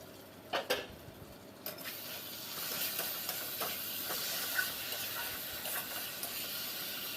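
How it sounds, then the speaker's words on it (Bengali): Fish cooking in mustard paste in a lidded pan gives a steady, close broadband hiss of steam, opening with a few faint clinks of pot or lid before the hiss settles in and holds. "এবার একটা ঢাকনা দিয়ে একটু বয়েল করে নিতে হবে।"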